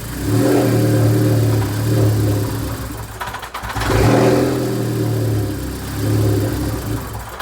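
A car engine recently repaired for a bad vacuum leak runs and revs unevenly, a loud close mid-pitched drone that dips and sags before surging again.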